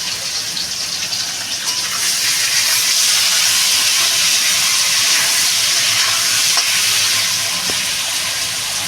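Potatoes fry in a hot pan for a catla fish curry, making a loud, continuous, close hissing sizzle that stays steady throughout.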